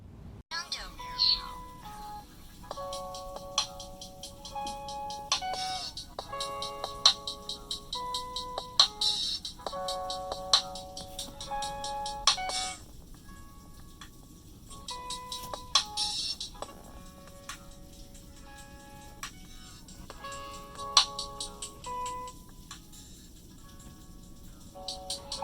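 A melodic electronic ringtone plays through the small loudspeaker of an LG K40 smartphone, a steady run of bright repeating chime-like notes lasting throughout, moderately loud and alone.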